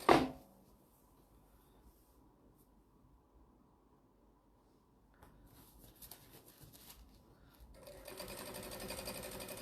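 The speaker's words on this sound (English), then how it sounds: "I'm just doing a rough 1/4 inch seam." A sewing machine stitches a rough quarter-inch seam on a jelly roll strip tote bag. After a quiet start it whirs in short bursts, then settles into a louder, steady running drone at the end.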